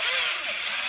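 A power drill spins an 800-grit sanding disc against a polycarbonate car headlight, giving a brief, steady whirring hiss close up.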